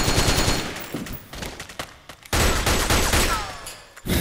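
Rapid gunfire bursts from a Metal Gear Online one-on-one shootout, loud and close, with dense volleys broken by brief pauses and a sharp final shot.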